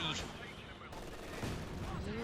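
Artillery shells land on mortar crews in a Company of Heroes 2 1v1 match, a dense run of overlapping blasts and gunfire rumbling on continuously, with a commentator's voice talking over the battle.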